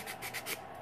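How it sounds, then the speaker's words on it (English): Wood being sanded by hand with sandpaper taped to a popsicle stick as a homemade block, giving three or four quick, soft rasping rubs in a short close burst. "you can tape some sandpaper to a popsicle stick and you can sand it that way"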